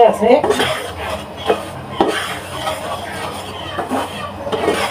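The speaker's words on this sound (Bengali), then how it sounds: "আমি নেড়ে চুরিটা আমি ভালো করে ভেজে নিব।" Semolina fried in a pan over medium heat is stirred, with repeated scraping and clinking of a utensil against the metal pan over a low background rumble.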